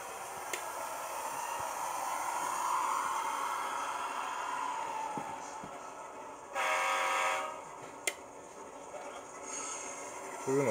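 An Athearn Dash 9-44CW model locomotive's sound system plays diesel engine revving and a horn blast, fairly faint, with rising tones and a short loud burst partway through.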